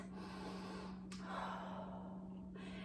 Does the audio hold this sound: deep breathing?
yes